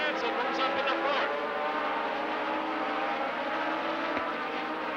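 Legends race cars run at speed around Rockford Speedway in Illinois, a continuous loud roar of several engines droning together with slight rises in pitch as the pack circles.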